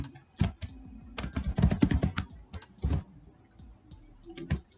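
Code being typed on a computer keyboard, a fairly close run of uneven key clicks and taps with a few short pauses.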